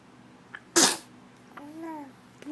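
Young child's single sharp, close sneeze at breakfast, followed by a short babbling vocalization.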